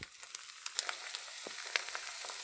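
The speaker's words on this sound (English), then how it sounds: "Oh, hear that sizzle?" Cheese curd pancakes fry in an oiled pan, giving a close, steady sizzle with scattered sharp crackles and pops throughout, no voices.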